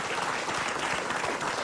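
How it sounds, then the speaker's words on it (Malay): Studio audience on a Malaysian TV talk show applauding a university lecturer as a panel guest, a brief, steady patter of clapping, moderately soft and continuous. "Kita berikan tepukan"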